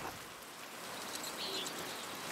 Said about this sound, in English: I hope this rain lets up for you soon.